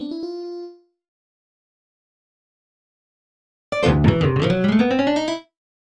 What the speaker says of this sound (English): I am using classic acoustic and fruity DX10 for the first melody.